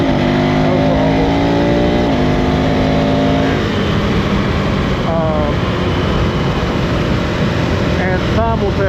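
A KTM 390 Enduro R single-cylinder motorcycle pulls hard in third gear, its engine note climbing steadily in pitch under constant, loud wind rush, with a rider's voice faintly audible over the ride.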